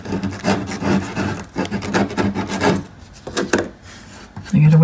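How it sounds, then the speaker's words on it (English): Splintery wood being filed by hand with a small emery board while building built-in furniture, a close, rhythmic rasping of repeated back-and-forth strokes that pauses near the end before a brief different noise. "It's very splintery, so I'm going to clean it up just a smidgen with my little emery board here."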